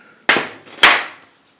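A hammer strikes a punch or chisel held in a blacksmith tool holder: two sharp, close, metallic blows about half a second apart, each decaying quickly.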